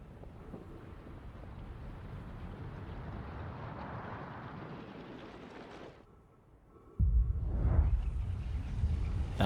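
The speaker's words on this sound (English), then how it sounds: "Then I hear the explosion." An explosion rumble from the video game Outer Wilds near Ember Twin: a low, windy roar builds and then drops away into near quiet. A sudden heavy, booming burst follows and sustains to the end.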